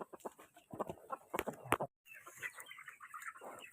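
Rhode Island Red chickens clucking repeatedly in short irregular bursts, fairly close, with a brief silent break midway before more clucking resumes.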